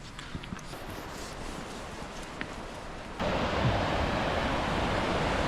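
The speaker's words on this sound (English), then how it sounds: "More waterfalls." A waterfall on the Johnston Canyon trail gives a steady, broad rush of falling water, moderately loud, that swells abruptly louder partway through as if coming closer, with no talking.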